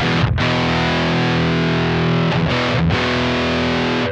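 Heavily distorted electric guitar through the distortion channel of a Synergy Mesa Boogie Mark IIC+ clone amp sustains a thick, saturated chord, with a couple of quick breaks between strums, loud and continuous with no talking.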